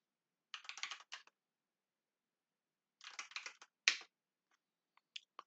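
Bursts of keystrokes on a computer keyboard while logging in as root at a virtual machine prompt, two quick runs of typing separated by a pause, then a sharper tap and a few isolated clicks, close and with no talking.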